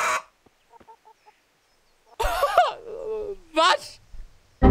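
Chicken clucking in the medieval role-playing game Kingdom Come: Deliverance: a few faint short clucks, then a loud squawking burst and a second sharp squawk, with someone talking over parts of it.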